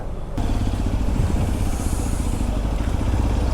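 A Hero Xpulse 210 motorcycle engine runs steadily close by as the bike moves off a petrol pump onto the highway, a continuous low rumble after a brief quiet start.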